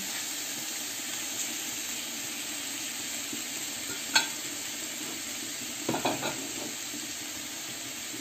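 Salmon fries in a pan with a constant bright sizzle. One sharp tick falls near the middle, and a short cluster of utensil knocks comes toward the end.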